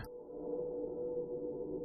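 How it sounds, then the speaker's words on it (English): A short dull tone through a ChromaVerb reverb in Logic with the high frequencies cut trails off into a smooth, muffled reverberant wash with no brightness, fading quietly. "you can hear we still get the reverb effect, but we don't have as much of the high end."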